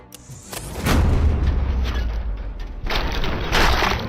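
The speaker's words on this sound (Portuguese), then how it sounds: "Nossa, tinha uma bomba ali." A heavy bomb explosion in the RoboCop: Rogue City video game, a deep booming blast that rumbles on, followed by a second loud impact a couple of seconds later, with no talking.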